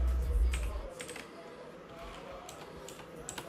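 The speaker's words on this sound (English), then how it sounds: "hit H on the keyboard" Keys on a computer keyboard are pressed in a scattered series of light, crisp clicks, fairly close and quiet, following a brief low rumble at the start, with no talk over them.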